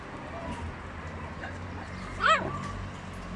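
A single short, high yelp from a dog cuts through a low background hum, otherwise quiet.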